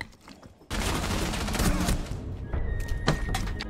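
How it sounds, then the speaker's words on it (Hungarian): Gunfire in a video game, shooting through a hole, bursts in suddenly after a quiet start as a dense, loud volley of rapid shots that continues with scattered sharper cracks. "le fogja lőni abból a lyukon keresztül"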